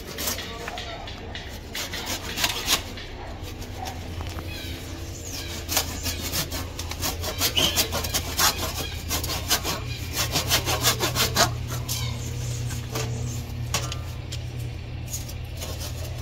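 A plant branch being sawn through by hand, with rapid rasping back-and-forth strokes, close and fairly loud, broken by short pauses, with faint voices in the background.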